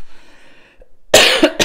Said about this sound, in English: So I'm gonna cough here for a second.